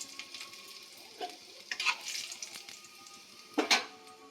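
Chopped garlic hits hot oil in a wok and sizzles, with stirring scrapes and sharper crackling bursts rising and fading close up, no voices over it.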